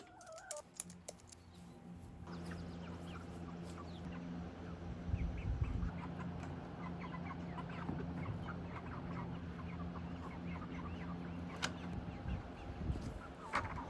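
Soft, scattered clucks and bird calls from a flock of chickens in a homestead chicken run, steady and moderately close, with faint clattering and no talking.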